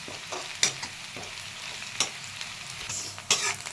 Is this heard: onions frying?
yes